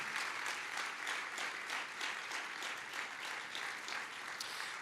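A church congregation claps in praise during a worship service, sustained dense applause from many people with clearly separate claps throughout, fairly close and even in level.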